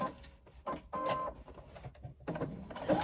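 A sewing machine runs in short start-stop bursts while sewing a 3/8 inch base seam straight across a swim bag, with faint rattling and pauses between stitches.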